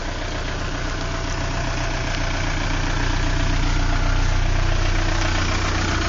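A car engine idles steadily through the whole stretch, a continuous low rumble with a faint knocking vibration, fairly close and even in level, with no talk over it.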